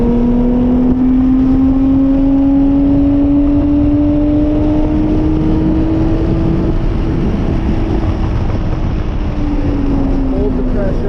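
A Lotus sports car accelerates on a race track, its engine note climbing steadily and loud and close, with talk running over it.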